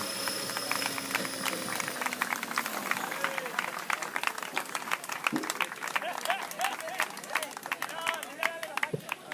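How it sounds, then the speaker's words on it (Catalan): Crowd applause at an outdoor motorcycle stunt exhibition, dense clapping sustained for about nine seconds with a voice and some crowd chatter mixed in underneath. "Un aplaudiment."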